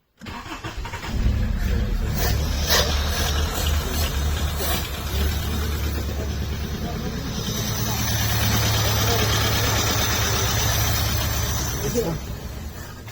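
A 1977 Honda Accord engine idles steadily at close range for the whole stretch, a continuous low rumble with a slight swell in the middle, while people talk over it.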